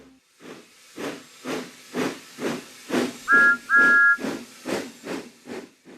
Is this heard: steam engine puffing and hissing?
yes